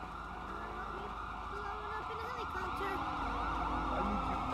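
Ambulance siren in a video game: a steady wailing tone rises and falls continuously beneath a dense, noisy background, moderately loud throughout.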